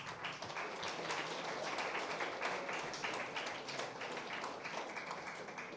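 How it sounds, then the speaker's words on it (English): Audience at a college freshers day event applauding the parents: a fairly faint, sustained patter of many hands clapping, with no voices over it. "So we have to give a big applause to each parent."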